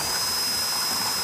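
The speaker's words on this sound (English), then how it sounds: "I'll then take a drill" A drill bores a hole in an aluminum window frame, giving a steady loud whirring hiss without pause over the brief moment, no voices.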